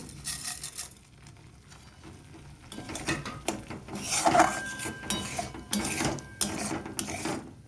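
Spices fry in a pan for a cauliflower and egg curry, with irregular metallic scraping and clinking from steady stirring over a soft background hiss.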